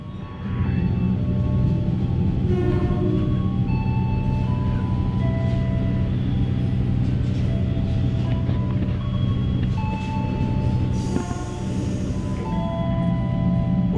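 Airlangga passenger train on the Pasar Senen to Tegal route at Cikarang station, a continuous low rumble of the train with tonal mechanical hums and brief higher squeals layered on top, heavy and unbroken throughout.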